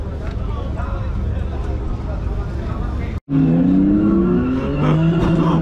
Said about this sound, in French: c'est un truc de pot d'échappement donc c'est logique